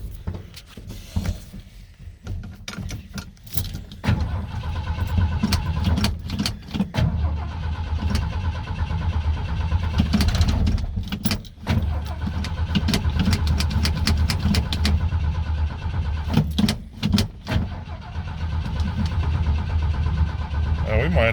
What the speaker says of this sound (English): Let's drive down the road here and see if our throttle response is everything we need it to be.